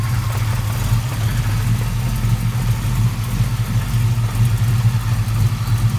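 A 1967 Camaro RS pro touring V8 idles close by, a loud, steady low rumble with a slightly lumpy pulsing beat throughout and no talking.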